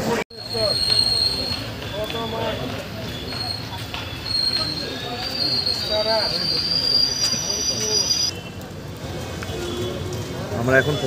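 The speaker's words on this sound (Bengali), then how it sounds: "মোটামুটি ট্রেন এখন রাইট টাইমে চলছে" Uttarbanga Express train running on rails with rumbling wagons, rhythmic clatter and sustained high-pitched wheel squeals, loud and close, with people talking over it.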